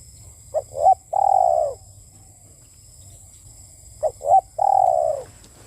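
Spotted dove cooing near and clear, two phrases of short rising notes followed by a longer drawn coo, separated by a pause, over faint insect hum.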